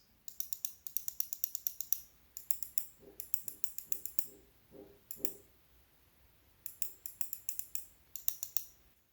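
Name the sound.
computer mouse button clicks, Cooler Master MM711 and Glorious Model D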